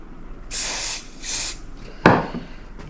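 A spray can hisses in two bursts of about half a second each, fairly loud and close, used while building a birdhouse lamp. A sharp knock and rattle follows the second burst.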